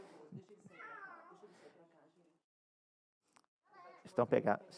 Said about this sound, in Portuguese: tem um gatinho aqui miando